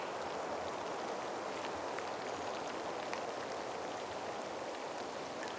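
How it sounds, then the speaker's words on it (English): Light rain falling outside near a garage, a steady, soft hiss of drops with faint scattered patters, continuous and low in level throughout. "So it started raining on me a little bit"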